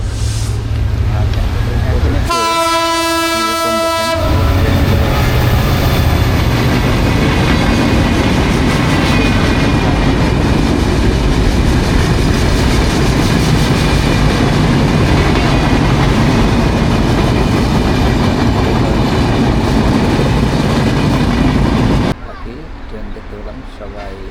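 A train on an elevated line near Nimtali railway station in Sreenagar, Munshiganj, blares a brief horn, then rumbles past loudly and continuously for about twenty seconds before cutting off.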